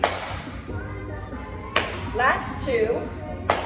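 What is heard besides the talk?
hand clapping during step-slide-clap cardio workout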